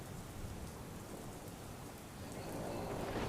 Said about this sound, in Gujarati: અમદાવાદમાં ધોધમાર વરસાદ જોવા મળી રહ્યો છે।